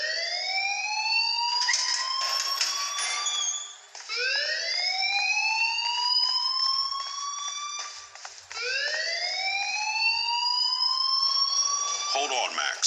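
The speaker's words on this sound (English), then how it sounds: "please turn off that alarm since that's your job." A school fire alarm in the video game Life is Strange wails in repeated rising sweeps, loud and continuous, with speech and other game sounds running underneath.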